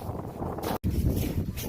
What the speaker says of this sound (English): So it's windy.